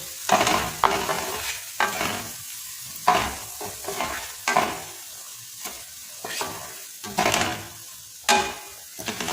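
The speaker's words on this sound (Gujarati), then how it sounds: "એકદમ સરસ ગળીને તૈયાર થઈ જાય ત્યાં સુધી તેને આ રીતના તેલમાં તેને સતડાવીશું" Pav bhaji vegetables, including finely chopped capsicum, fry in oil while being stirred, producing a steady close sizzle broken by repeated scraping strokes at an uneven rhythm, with no talking.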